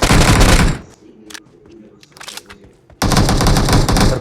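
Automatic gunfire in the BGMI mobile shooter game, loud sustained bursts at the start and again at the end, with quieter scattered shots and game sounds in between.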